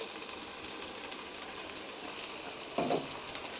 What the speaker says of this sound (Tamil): சின்ன வெங்காயமும் பச்சை மிளகாயும் போட்டு நல்லா வதக்கிக்கோங்க